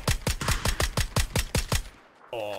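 Gunfire in a video game: a rapid string of about a dozen loud, evenly spaced shots, then a brief pause before a steady tonal hum takes over.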